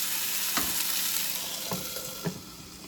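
Chicken pot pie filling sizzles and fries steadily in a pan, a continuous close hiss with a few light clinks or stirring knocks scattered through.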